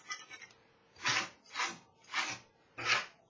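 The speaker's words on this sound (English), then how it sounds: "just by scraping" A ScraPerfect scraper rasps grime off a cutting mat in four distinct, evenly spaced strokes after a few lighter scratches, each stroke a close, dry scraping burst.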